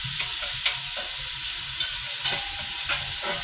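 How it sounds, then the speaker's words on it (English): Raw vegetables for soup sizzle steadily in a hot pan, a close, constant frying hiss with occasional scraping stirs breaking through. "So, anytime you got raw vegetables, you got to saute them first."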